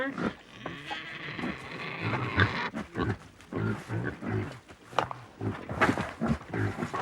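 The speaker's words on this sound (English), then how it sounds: "The pigs live there too," Pigs kept behind a fence in a women's house grunt and snort at close range in a rapid, uneven series, fairly quiet overall and with no talking.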